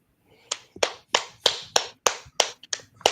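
Hands clap sharply about eight times at a steady, moderate pace, close by and alone.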